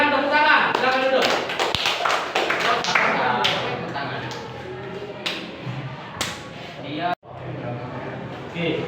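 A classroom gives group 3 a round of applause, with scattered uneven claps and taps over several seconds and voices talking through it.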